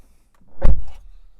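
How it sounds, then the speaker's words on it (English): A single solid car door of a 2025 MG ZS Hybrid+ thunks shut close by, a dull heavy impact with a brief rattle as it settles, then quiet. "Now let's just close the doors"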